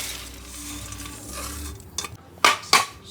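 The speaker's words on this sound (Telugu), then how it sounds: "ఒక కప్పు ఉద్దిబెల్లు, ఒక కప్పు రైస్ ఇవన్నీ ఫ్రై చేసుకోవాలి." Urad dal and rice toast in a pan with a soft dry sizzle, then a spoon scrapes and knocks against the metal in two or three sharp strokes near the end; no voices.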